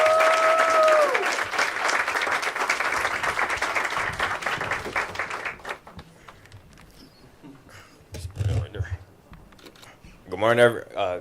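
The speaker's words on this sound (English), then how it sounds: "Let's give them a warm round of applause." Enthusiastic applause at a Washington, DC mayoral announcement in Ward 8 rises and fills the first half, then fades out, leaving a few scattered sounds and a voice starting to speak.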